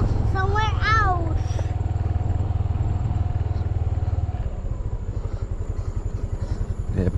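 A motorcycle engine idles with a steady low throbbing pulse, while a child and an adult talk over it near the start before the engine carries on alone.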